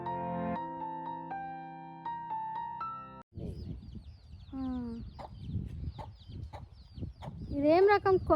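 Chickens cluck and squawk up close in a tribal village, with repeated sharp calls that grow louder toward the end, following a short stretch of musical tones.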